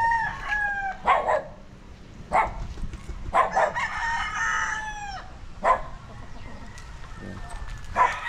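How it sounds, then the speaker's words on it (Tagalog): Several roosters crow in turn with loud, drawn-out calls, mixed with chickens clucking in between in a backyard farm, fairly close and without talk. "Yung mga manok niya."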